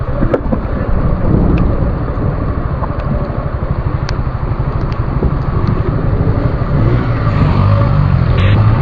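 Rain hisses steadily under a loud, continuous low rumble of thunder that pulses throughout, on a hilly mountain road, with no voices.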